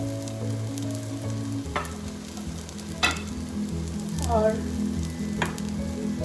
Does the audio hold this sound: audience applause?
no